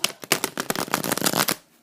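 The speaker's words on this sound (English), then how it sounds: "you do a shuffle and cut the cards" Tarot cards shuffled by hand, a quick dense burst of riffling flicks lasting about a second and a half, close and crisp, ending abruptly in near silence.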